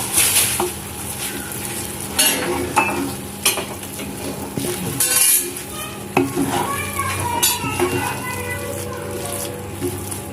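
A spoon stirs biryani masala into a pot of prawn biryani, giving scraping and clinking strokes against the metal over a soft sizzle, with brief clatters of the lid and utensils spread unevenly through the clip.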